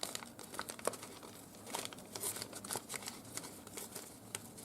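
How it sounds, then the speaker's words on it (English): Paper torn by hand from a mixed-media flower journal, a run of close, soft crinkling rips and rustles that come in uneven bursts over several seconds, with no talking. "So I'm going to start tearing this out."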